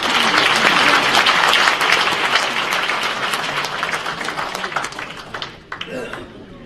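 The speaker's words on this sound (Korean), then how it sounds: "두 분을 큰 박수로 맞이해 주십시오." Ceremony audience at the Sejong Center anniversary event for the Korean Retired Police Association, giving loud sustained applause to welcome two guests, with a voice talking over the clapping as it fades near the end.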